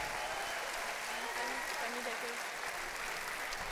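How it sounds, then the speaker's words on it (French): Dense sustained applause fills the Grand Rex theatre as the audience cheers participants at a film awards ceremony, a continuous wash of many clapping hands with faint voices mixed in. "On peut les applaudir très fort."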